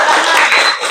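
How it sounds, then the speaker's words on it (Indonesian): A school science class claps for itself at the end of a lesson on evacuation maps, a brief, loud burst of close, dense applause. "kita kasih tepuk tangan dulu untuk kita semua"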